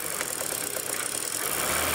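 A repaired Super 8 film projector motor runs steadily on its own, a continuous mid-level mechanical whir with faint irregular ticking.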